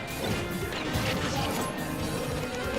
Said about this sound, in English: Shulker just side smashed that right after that.